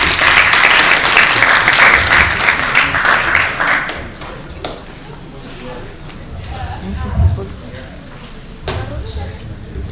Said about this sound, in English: Please give a welcome round of applause.